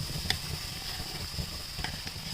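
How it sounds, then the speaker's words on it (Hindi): Ginger-garlic paste with cumin seeds frying in a pan, a steady soft sizzle with a few light scraping clicks, close and alone. "1 चम्मच अदरक लहसुन का पेस्ट डालेंगे। तो देखिए अच्छी तरह से भून जाए।"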